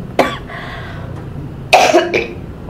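A single cough, then after a pause a heavier double cough, close and loud in a quiet room.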